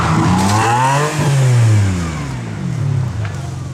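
A Lamborghini supercar revs and accelerates hard, a loud rising engine roar that peaks then eases, close by, with a voice faintly present.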